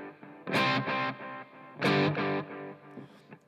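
Electric guitar played through a Headrush pedalboard effects chain, with two loud strummed chord bursts ringing out with distortion and a trailing tail of reverb and delay, no talking.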